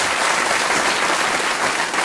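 A studio audience at a BBC Radio 6 Music Maida Vale session gives a sustained, dense round of applause for a band, steady clapping at even loudness with no voices.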